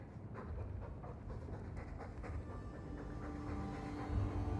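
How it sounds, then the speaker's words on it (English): Dog panting in the video game Dragon Age II, a steady rapid breathing rhythm continuing throughout, fairly close with a low background hum. "All that noisy dog breath, day in, day out, make him stop."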